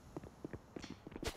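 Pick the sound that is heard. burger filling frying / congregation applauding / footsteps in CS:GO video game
footsteps in CS:GO video game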